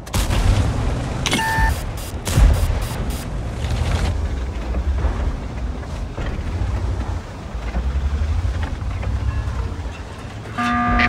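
Heavy booming tank cannon shots from a T Vz.51 in a video game ring out in a rapid cluster early on, followed by a steady rumbling engine and a few more sharp blasts near the end.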